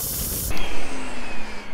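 A Bissell Spotclean Pet Pro portable carpet cleaner working on a carpet stain gives a brief, loud hissing spray that stops abruptly and leaves a lower suction hum with a faint whine, close by and with no voices.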